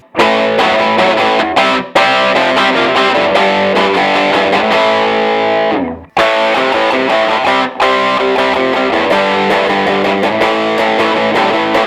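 A loud, continuous electric guitar through an overdrive pedal set to mimic a Tube Screamer plays dense chords with a warm, gritty crunch, briefly cutting out near the middle before resuming.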